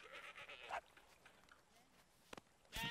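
Goats bleating in the Dawn of Man video game as they are slaughtered, a few short bleats separated by quiet gaps, with a louder cry at the end.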